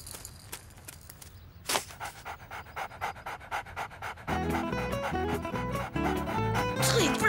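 A dog pants steadily in quick rhythmic breaths, close by, while music and a few other sounds rise around it and grow louder toward the end.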